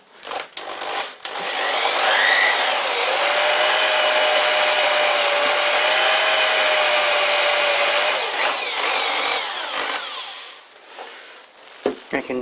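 An electric drill runs steadily while working on a small Bison three-jaw lathe chuck, a loud continuous whine held for about seven seconds with a slight pitch rise near the start, framed by brief clicks and handling noise at either end.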